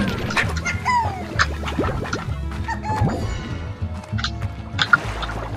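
Chickens cluck and squawk in the video game Slime Rancher, their clucks coming in short, repeated bursts over a busy bed of game music and thumping effects.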